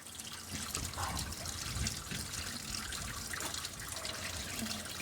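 Waste water drains steadily from a motorhome holding tank at a service point, a continuous close trickle and gush of liquid running the full length with small splashing variations and no talk.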